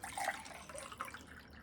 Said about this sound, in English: let me get water